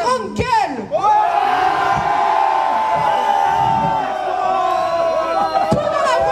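Carnival crowd in a town square shouting, jeering and cheering during a mock trial at the Granville carnival, a loud, dense and continuous roar of many voices with a sharp slam near the end.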